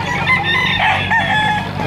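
A rooster crows loudly and close at a busy chicken market in Lipa, Batangas, with clucking fowl around it and no talk over the call.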